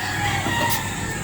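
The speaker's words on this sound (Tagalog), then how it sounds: "Daming manok doon, oh." Rooster crowing among many chickens in a rural province in Ilocos Norte, a short, fairly close call carried over steady background noise, with no talk.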